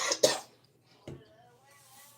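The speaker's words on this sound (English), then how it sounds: "I was coughing." A couple of short, harsh coughs close to the mic, with a quieter throat-clearing sound between them, separated by near silence.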